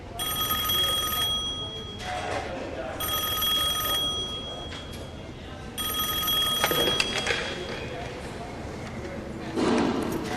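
An old-style telephone bell rings in three long, loud bursts with pauses between them, while a voice talks and hoofbeats clop in the background.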